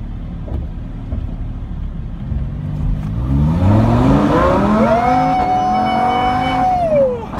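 A Lamborghini Huracán engine revs up close and loud, its pitch climbing steadily, holding high for a couple of seconds, then dropping away, recorded on an iPhone.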